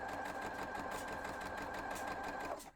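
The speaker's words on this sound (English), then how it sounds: "And then I'm just going to sew my border there." A sewing machine runs steadily at speed while stitching the border onto a pumpkin quilt block, a loud close continuous whir that stops abruptly at the end.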